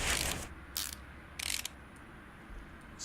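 Engine parts fitted while a supercharger is mounted in the Car Mechanic Simulator 2018 game: a few short, bright mechanical clicks and ratcheting bursts, separated by gaps over a quiet hum.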